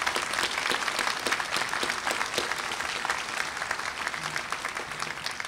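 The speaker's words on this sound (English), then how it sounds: "Give her a round of applause." Steady, full applause from a graduation ceremony audience at Columbia Southern University, honouring a staff member with flowers; dense clapping holds evenly for the whole stretch with no voices on top.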